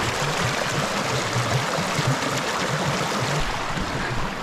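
Water rushing continuously in Finland, a dense broadband wash like a stream flowing close by, steady in level with no voices.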